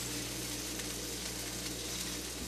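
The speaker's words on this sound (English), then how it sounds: "Then you fry it up to taste." Fish frying in a pan, a faint, steady sizzling hiss with a low hum beneath, continuous and even with no talking.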